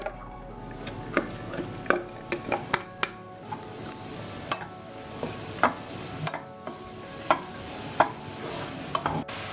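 Chopped vegetables stirred in hot oil in a pan on a home stove, with a low steady sizzle under repeated scraping and clinking spoon strokes, close up and with no talk.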